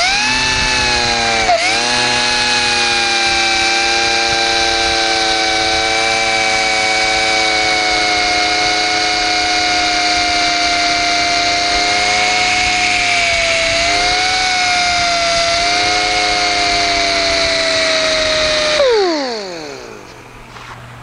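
A power sanding and polishing machine works an aluminum bonnet for a Jaguar E-Type, giving a loud, steady high whine that holds for about nineteen seconds and then winds down as the motor stops. No one speaks.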